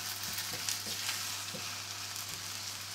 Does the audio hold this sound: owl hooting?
no